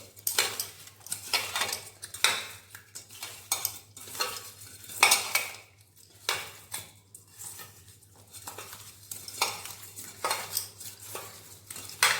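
Washed bata fish are rubbed by hand with salt and turmeric in a metal bowl, making close, irregular squelching and clattering bursts with short pauses between.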